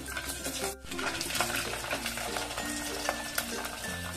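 A piece of cinnamon, four or five cloves and four or five peppercorns stirred with curry leaves in a pan, with scraping and metallic clatter from the utensil and a steady low frying hiss underneath.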